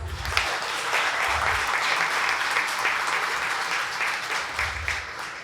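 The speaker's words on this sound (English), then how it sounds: "let's give them one more round of applause" Audience applause at a county fair opening ceremony, steady and sustained for the whole stretch, a dense crowd of clapping hands with a low rumble underneath.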